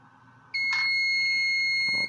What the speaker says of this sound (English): you're gonna see the alarm